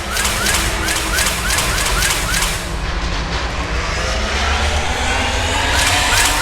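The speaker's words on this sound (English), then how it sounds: "Navigating this storm is brutal. If the ship's engines stop, even for a moment, at least the Shadow Broker would go down with us." Heavy rumbling roar of ship engines battling a storm in the video game Mass Effect 2, loud and continuous, with a rapid series of sharp repeated bursts early on over the steady drone.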